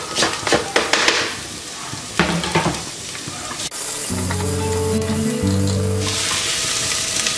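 Onion and garlic frying in a pan while being stirred, a steady loud sizzle with scraping stir strokes early on, then a continuous hiss under a faint tonal hum.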